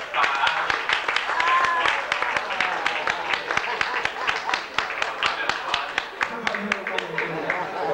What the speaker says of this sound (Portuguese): Por favor, uma sala de palmas de novo.